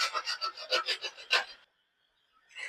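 Coconut rubbed on a hand grater gives about ten quick, rhythmic rasping strokes up close. A brief silence follows, then one more stroke.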